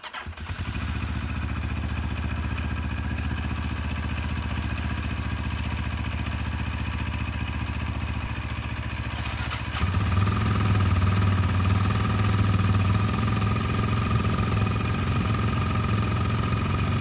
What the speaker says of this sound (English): I got both the bikes idling right now